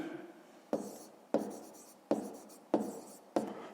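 Handwritten math figures being written on paper for a fifth-grade area exercise, with five sharp pen strokes or taps at a regular pace, each fading quickly, close and clear with no talking.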